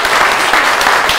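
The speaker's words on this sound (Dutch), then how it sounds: "Maar ik denk namens alle mensen hier een groot applaus voor Ria." A brief, loud wash of crowd applause at a book presentation, dense and continuous throughout.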